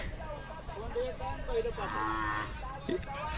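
Khillar cattle low and moo several times at a livestock market fair, against a busy outdoor background, with people talking faintly nearby.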